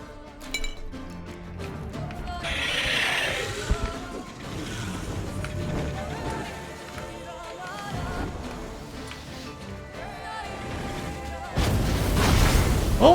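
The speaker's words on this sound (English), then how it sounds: "Oh, he breathes fire!" A Draconid monster breathing fire in The Witcher 3: Blood and Wine, heard as loud roaring, whooshing bursts over game music, with a heavier blast near the end.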